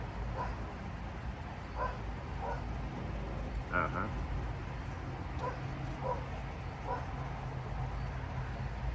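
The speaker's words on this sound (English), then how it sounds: "And there's the barking." A dog barks repeatedly in short bursts at moderate distance over a steady low background hum, with a brief murmured reply from a person.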